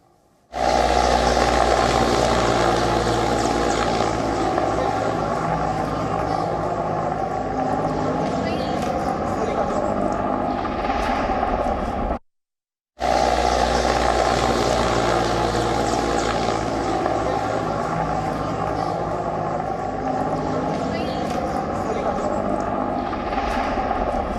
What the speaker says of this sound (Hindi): इस हेलीकॉप्टर के क्रैश होने से पहले का ये आखिरी वीडियो है जिसमें ये हेलीकॉप्टर दिखाई दे रहा है